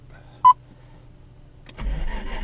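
A 1990 Nissan Skyline R32 GT-R twin turbo starts up: a short chime, a click, then the engine cranks and catches into a low, steady idle, all close and without talk.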